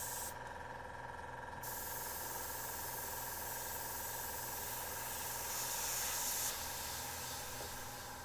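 A Meeden 0.35mm airbrush sprays paint in a soft continuous hiss over a steady mechanical hum from the compressor, faint and even, with a slightly stronger burst of spray near the end.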